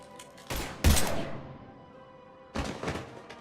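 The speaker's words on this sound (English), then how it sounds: "Now open fire!" Gunfire in the video game Mass Effect 3: a few sharp shots in quick succession, then a pause, then another close, loud burst before the sound tails off.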